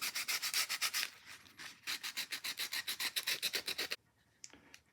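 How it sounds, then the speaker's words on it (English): Sanding a part for a 1/4 scale Star Wars speeder bike seat: rapid, rhythmic back-and-forth rubbing strokes, close and steady for about four seconds, then a few faint scrapes. "Forgot to sand that."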